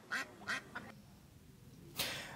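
Ducks at the Rostov zoo give three short, sharp quacks in quick succession, then a pause and one more quack, faint and alone against quiet ambience.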